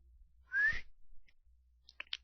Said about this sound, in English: There came only a soft whistle,